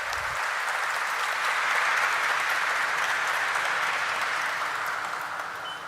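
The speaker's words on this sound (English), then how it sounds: "Let us have a resounding of claps for Dharmaj Crop Guard Limited." Sustained applause fills a room at the Dharmaj Crop Guard Limited IPO listing ceremony, an even, steady wash of many hands clapping that holds level throughout and eases slightly at the end.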